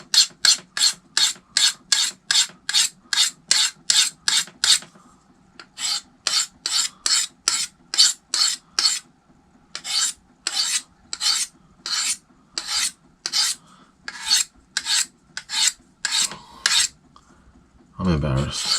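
A knife being sharpened with long rasping strokes, loud and close, repeating in quick rhythmic runs of about a dozen strokes each, separated by short pauses, with a brief thump at the end.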